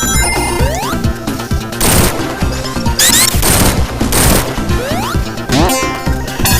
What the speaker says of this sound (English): Forest goes on fire.